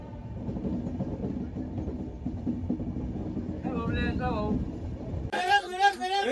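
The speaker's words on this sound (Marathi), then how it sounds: "गुतकलला गाडी थांबली आमची" A passenger train on the way to Tirupati slows to a halt at Guntakal station, its steady low rumble and rattle filling the carriage, while people talk nearby and a loud burst of voices comes in at the end.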